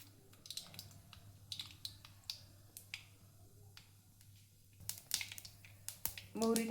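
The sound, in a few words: mustard seeds crackling in hot oil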